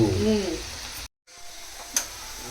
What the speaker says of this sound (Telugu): ఫ్రైడ్ ఆనియన్స్ ఫ్రై అయిపోయినాయి